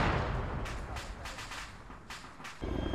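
Heavy booming blasts in the military shooter ARMA 3, several dull thuds rolling in at intervals with a louder burst near the end, medium distance and without speech.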